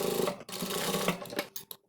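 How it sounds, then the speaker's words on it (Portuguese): A sewing machine stitches a seam on a fabric toiletry kit case, running in a steady rapid mechanical chatter that stops and restarts in short bursts near the end, close and clear with no talking. "eu vou passar uma costura, ó, novamente no mesmo lugar que eu passei a outra costura"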